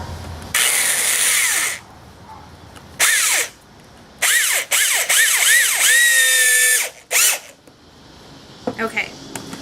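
A power drill drives screws into a wooden DIY pumpkin in several separate bursts, its motor whine sweeping up and down in pitch as each screw runs in, with short pauses between.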